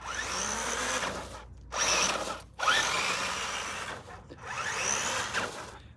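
Hobbywing 1080 ESC driving a 13t 555 brushed motor at full throttle in a Gen9 crawler, a loud, close, steady high-pitched electric whine that rises and falls over several surges with brief dips, no talk.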